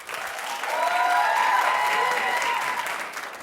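A television studio audience bursts into applause, a dense wash of clapping that swells, holds and fades over a few seconds, with no voices on top.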